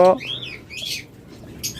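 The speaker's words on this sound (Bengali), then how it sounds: "আমাদের এই লোকাল খামারে পাখিগুলো যদি আপনারা নিতে চান" Caged birds at a local breeding farm chirp and squawk in short bursts at close range. A brief voice is heard at the start, and the calls are spaced out with quieter gaps between them.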